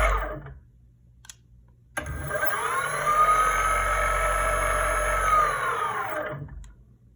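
Brushless DC skateboard motors under an electronic speed controller whine up abruptly after a quiet pause. They hold a loud, steady high-pitched hum, then wind down and fade as they brake.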